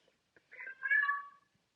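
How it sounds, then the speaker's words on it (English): A pet cat gives a single drawn-out meow, close and fairly soft, in an otherwise quiet room. "that's my cat."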